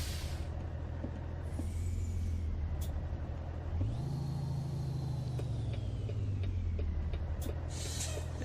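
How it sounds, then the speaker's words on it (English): A heavy truck in American Truck Simulator rumbles steadily at low pitch while its air brakes let out sharp hisses, one near the start and one near the end, with a rising engine tone in between. "I'm on the brakes and I'm still not coming to a stop."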